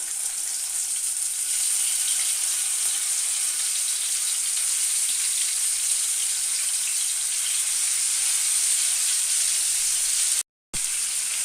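Hilsa fish pieces sizzle briefly in hot oil in a wok, a steady, loud, even frying hiss running throughout with one brief cut near the end.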